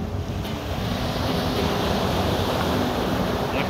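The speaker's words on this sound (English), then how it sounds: "I can feel the wind getting a bit stronger" Steady wind rushes over the microphone while small waves wash and slap against a sailing boat, a continuous close roar with no talking.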